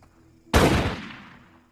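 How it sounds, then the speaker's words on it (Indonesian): A single sharp gunshot from the film No One Lives, loud and close, with a booming decay that rings out for about a second. "James pun kemudian menembak si pemilik motel karena dia mengetahui identitasnya."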